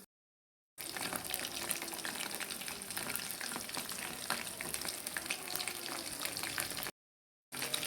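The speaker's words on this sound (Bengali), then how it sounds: "আমি কিন্তু ভাজা শুরু করে দিলাম" Chicken pieces for a crispy fry deep-fry in hot oil, a dense, steady bubbling sizzle close to the mic that runs unbroken for several seconds between short silences.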